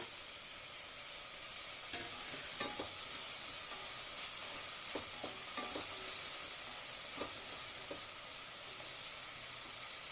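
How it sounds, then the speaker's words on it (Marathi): Finely chopped tomato fries with onion in a pan for a peas and potato curry, a soft steady sizzle and hiss with a scattering of light scrapes and taps from stirring, fairly quiet and with no talk. "कांदा चांगला फ्राय झालाय त्याच्यामध्ये मी एक टोमॅटो टाकते बारीक चिरून"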